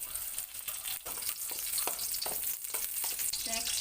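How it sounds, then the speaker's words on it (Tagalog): A little oil sizzles and fries in a pan while fish pochero ingredients are sauteed, a steady close crackle with stirring scrapes and bright pops throughout, no voices. "I'm going to saute."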